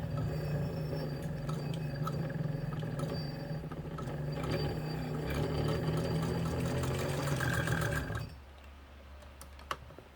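A Kenmore 117.95 sewing machine runs steadily with a dense, rapid mechanical stitching chatter for about eight seconds, then stops abruptly, leaving a quiet hum and a faint click.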